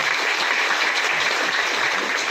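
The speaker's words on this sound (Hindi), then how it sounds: "एक बार इनके लिए तालियां करो।" Steady crowd applause, dense and sustained throughout with no gaps, no voices standing out.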